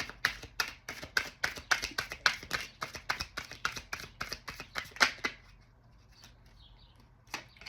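Rapid riffle of tarot cards being shuffled by hand, a quick run of crisp flicking bursts for about five seconds, then near quiet with one last soft snap.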